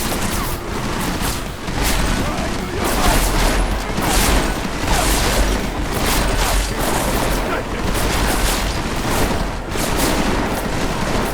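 Gunfire in the video game Deus Ex Mankind Divided rattles almost nonstop as dense, overlapping shots and bursts, loud and close throughout, with occasional heavier booms mixed into the barrage.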